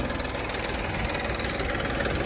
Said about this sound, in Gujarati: આ ડ્રાઈવર સાહેબ ઉપડી ગયા ટ્રેક્ટર લઈને